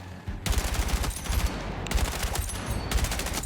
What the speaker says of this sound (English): Even if I pull down, this gun still fires extremely fast.